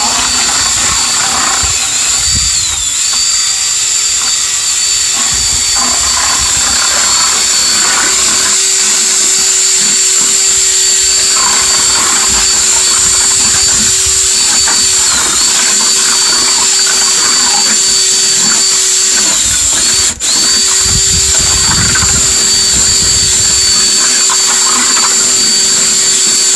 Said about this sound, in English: get your mixing bit and your power drill and start to mix really well